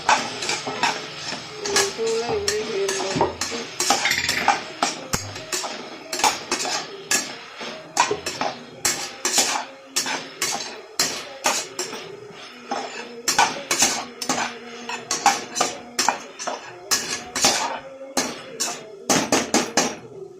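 A spoon scrapes and clanks against a metal pot while vegetables for veg biryani are sautéed, sharp repeated knocks in an irregular rhythm over a faint background, close and loud.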